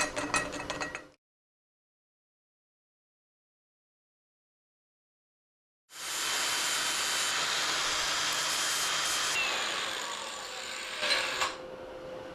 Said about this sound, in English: holding a piece of metal in your hand while you're grinding it